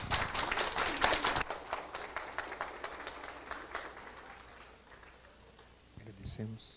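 An audience applauds a doctor after a talk on menopause, dense clapping fading after the first second or so into scattered claps, with a voice speaking near the end.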